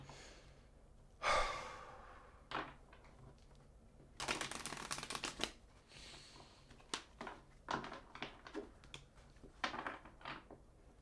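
Tarot cards being shuffled by hand, soft quiet riffling and slapping bursts coming in irregular clusters close to the microphone, with breaths and small rustles between them and no talk.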